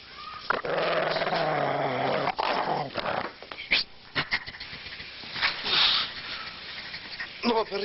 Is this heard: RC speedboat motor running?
no